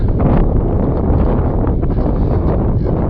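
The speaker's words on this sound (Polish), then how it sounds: "Pacyfik zimny, wiatr zimny, fale są lekkie" Steady, loud cold wind buffeting the microphone at a Pacific Ocean shore in California, a constant roar with gusty swells and no pauses.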